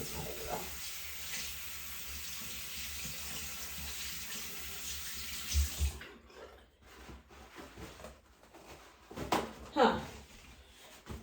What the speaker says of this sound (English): Let me wash my fingers off.